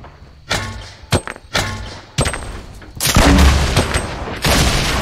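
Gunfire from the video game Fortnite: several loud, sharp shots in quick succession over the first few seconds, then a heavy sustained blast of fire ringing out close and loud.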